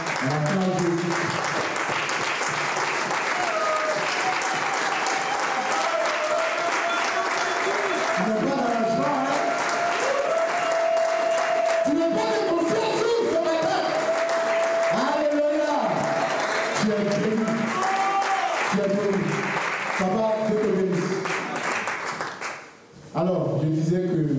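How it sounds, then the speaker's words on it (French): A church congregation claps and cheers for its pastor, sustained applause and shouts filling the room while a voice carries over the crowd, fading briefly near the end. "je veux qu'on se tienne debout pour acclamer le Père de la maison, le pasteur Joseph"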